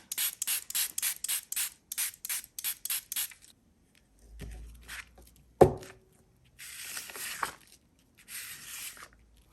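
Rapid rhythmic rubbing and scrubbing as Rusty Hinge ink is smooshed down onto a paper page, close and quiet, followed after a pause by a sharp tap and a few softer, slower smearing strokes.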